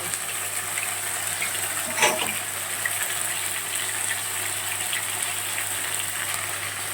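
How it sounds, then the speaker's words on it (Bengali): Water is poured into a pan of rui fish curry with fried potatoes and spice paste: a steady, close wash of gushing liquid with one brief louder splash early on. "মিষ্টি দিয়ে জলটা দিয়ে দিলাম, দিয়ে দিলাম পরিমাণ মতো।"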